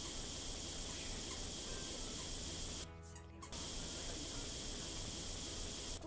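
Spray painting a tank in Tank Mechanic Simulator: a loud, steady aerosol hiss runs throughout, broken by a short pause near the middle before it resumes.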